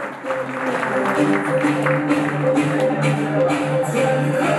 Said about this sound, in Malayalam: മനോജ് കെ ജയനെ നല്ലൊരു കയ്യടിയോടുകൂടി തന്നെ വേദിയിലേക്ക് സ്വാഗതം ചെയ്യാം.